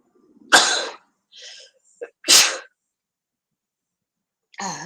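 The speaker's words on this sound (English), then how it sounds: "Sorry, I'm going to sneeze." Two sharp, loud sneezes burst out a couple of seconds apart, with a short breath and murmur between them and a voice starting at the end.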